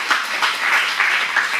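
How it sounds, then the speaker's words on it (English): An audience at a jazz club clapping for a trumpeter, a dense, even patter of many hands at moderate distance, steady across the brief moment. "let's give him a round of applause."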